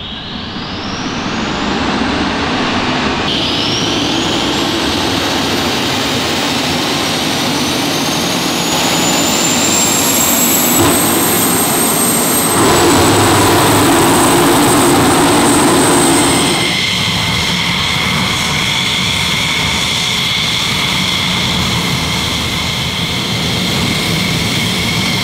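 A military jet's engine runs loud and steady on an airbase flight line at Łask, its high turbine whine shifting in pitch as the engine spools, with no voices.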